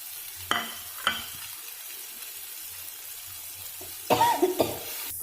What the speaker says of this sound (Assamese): হালধি পাউডাৰটো দি লৈছোঁ আদা নহৰু বটাখিনি ইয়াত দি দিছোঁ